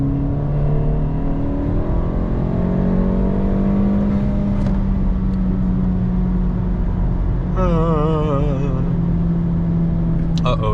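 A 250 hp Honda Civic Si engine revving with rev hang, heard from inside the car as a steady droning engine note with slowly sliding pitch, under someone talking throughout.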